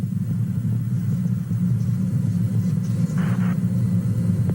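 Space Shuttle Columbia's engines on the STS-5 launch, throttled back to full power during ascent: a steady, dense low rumble heard from a distance, continuous and unbroken, with a brief faint higher burst partway through.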